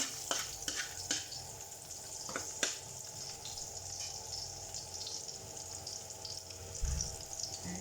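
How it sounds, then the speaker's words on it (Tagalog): Garlic sautéing in a pan for chicken curry, a steady close sizzle with occasional sharp clicks and scrapes of a spatula stirring, continuous and moderately loud without talk. "Gisa-gisa lang natin. Hanggang mag golden brown yung atin pong uh, bawang"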